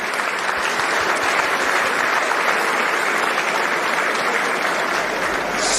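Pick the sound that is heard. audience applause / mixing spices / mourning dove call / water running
audience applause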